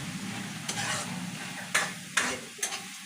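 Masala paste of tomato, garlic and ginger with onions is stirred and fried in a pan for gourd kofta curry, giving a steady low sizzle with a few sharp spoon scrapes near the mic, no talking.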